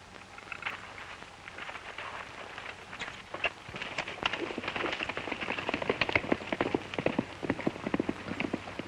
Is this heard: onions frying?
no